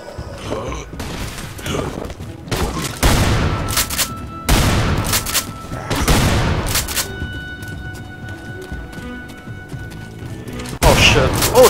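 Repeated heavy shotgun blasts in the horror shooter The Haunted: Hells Reach, Steel Town map, booming in irregular bursts over about ten seconds with a final loud blast, while someone talks throughout.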